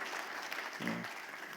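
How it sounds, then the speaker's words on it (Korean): A church congregation applauds in a steady, even patter of clapping across the room, with a brief voice rising over it partway through. "다시 한번 우리 수고하셨다는 의미에서 박수를 합니다."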